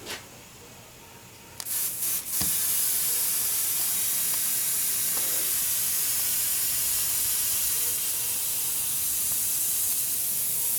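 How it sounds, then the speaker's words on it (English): An airbrush sprays micro thinner with a loud, steady hiss after a few short bursts, continuing strongly to the end. "Just gonna clean my airbrush out real quick. I'm running micro thinner through"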